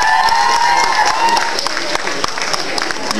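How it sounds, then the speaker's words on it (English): An audience claps for cosplayers at a convention, close, lively applause with some cheering that goes on for a few seconds and thins slightly toward the end. "Everyone else give them a big round of applause."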